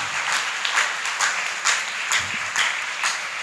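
A church congregation applauds during an Easter vigil sermon, steady sustained clapping from many hands filling the room with no voices over it.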